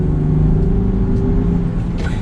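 A 2020 Land Rover Defender on a road under light throttle, its engine a steady low rumble close by, building smoothly as it gathers speed with no voices.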